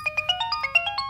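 A phone ringtone sounds for an incoming call, a rapid run of bright, chiming synthetic notes in a steady repeating pattern, close and clear with no voices over it.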